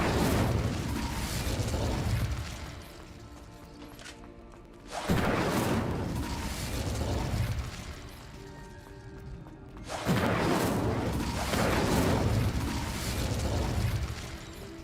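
The Incendio fire spell cast in Hogwarts Legacy, three loud whooshing, crackling bursts of flame in steady succession, each swelling and rumbling for several seconds, close and without talk.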